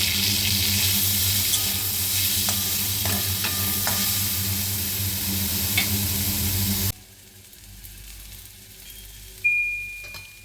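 Chopped onions fry in a little oil, sizzling loudly with stirring scrapes for about seven seconds, then the hiss drops away to a much quieter background with a brief clink near the end.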